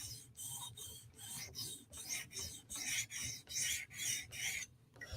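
A Hinderer knife blade is drawn in repeated rasping strokes across a stone on a TSProf Kadet guided sharpener, about ten even, close passes with brief gaps between them and no talking.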